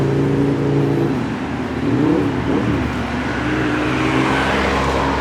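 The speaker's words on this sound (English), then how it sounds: "a guy on a motorbike doing some silly things" A motorbike revs and accelerates on a city street in Sofia, Bulgaria, a loud, close engine whine rising and falling over steady traffic noise.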